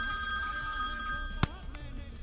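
An office telephone rings with a steady electronic trill in a comedy scene, the tone sustained over low background murmur, with a brief sharp knock partway through.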